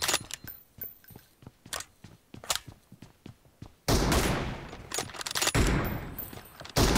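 Video-game gunfire pops as a string of sharp, separate shots, then heavier blasts including a shotgun, close and loud, with a dense burst in the middle of the sequence.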